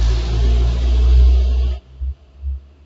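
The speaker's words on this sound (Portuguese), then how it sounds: "O ruim de gravar aqui é o barulho dos carros" Cars passing outside a room, a loud low rumble of traffic that swells and then cuts off, followed by a couple of softer thumps, with no talk.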